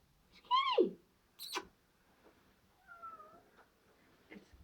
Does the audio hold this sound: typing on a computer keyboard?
no